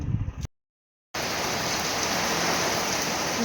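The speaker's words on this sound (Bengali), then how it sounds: "প্রচুর জোরে বৃষ্টি নেমেছে" After a brief sound and a short gap of silence, a dense, steady roar of heavy rain fills the rest of the clip, loud and constant.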